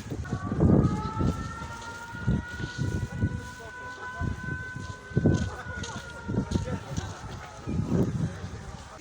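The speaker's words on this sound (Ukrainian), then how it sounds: "Ви чуєте? повітряна тривога прямо зараз." A steady air raid siren wails in the distance throughout, partly masked by nearby people talking and ambient noise, during an outdoor Epiphany celebration in Bila Tserkva, Ukraine, in 2023.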